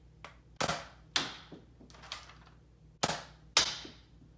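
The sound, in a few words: modded Nerf Hammershot toy blaster firing darts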